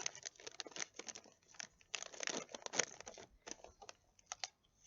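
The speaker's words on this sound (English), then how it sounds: "I'm just going to cut open my container here." A plastic bird seed container is cut open up close: quiet, irregular snips and crinkling plastic come in short bursts with brief pauses, and there is no talking.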